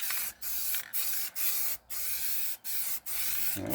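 Spray paint hisses from an aerosol can in about eight short bursts, each separated by a brief pause, close and steady with a sputtering edge in a spray paint art session, with no talking.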